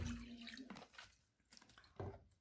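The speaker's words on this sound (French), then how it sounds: "Si on verse le vinaigre dans le pot" Vinegar poured into a jar in a chemistry demonstration: soft trickling and dripping liquid in a few short bursts, close and fairly quiet, with no speech.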